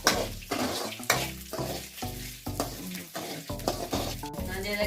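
Peanuts and cashews are stirred in a hot frying pan, a steady sizzle under repeated scraping and stirring strokes, with low musical tones running underneath throughout.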